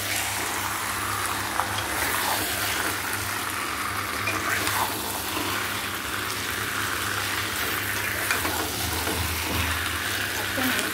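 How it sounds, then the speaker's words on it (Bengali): Meat sizzles and stirs in a hot pan with turmeric and salt, a steady frying hiss with occasional scraping of the spoon, close and continuous. "মাংসটা তুলে দিলাম। এবার ভালো করে কষবো।"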